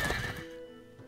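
Wild horses neigh in the strategy video game Fallen Enchantress: Legendary Heroes: one loud, close whinny that fades out over about a second, with no talk.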